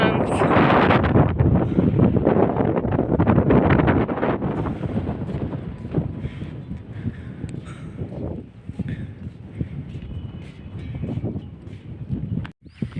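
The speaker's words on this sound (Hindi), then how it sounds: "बहुत ही ठंडा हवा चल रही है।" A strong, cold wind blows through a forest in Banka district, Bihar, buffeting the microphone with a loud, continuous rumble and roar that eases slightly after the first few seconds.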